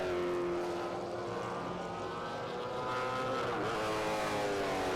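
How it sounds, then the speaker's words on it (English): A V8 Supercar roars down toward a corner at a racing circuit, a loud sustained engine note with rising and falling harmonics as it passes close by, no talking. "Here comes the leader down to G&H Transport Corner in a V8 Supercar"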